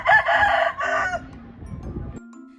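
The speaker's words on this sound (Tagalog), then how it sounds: "Natilaok pa ang manok." A rooster crows loudly nearby, one drawn-out cock-a-doodle-doo that trails off, followed by softer background rustling.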